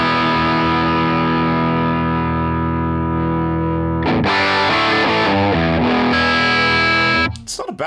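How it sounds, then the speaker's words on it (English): Electric guitar on its full humbucker pickup through an amp model on a ToneX modeler: a long, loud distorted chord sustaining and decaying, then a burst of fresh picked notes and chords before a sudden cutoff. "that's a full humbucker again."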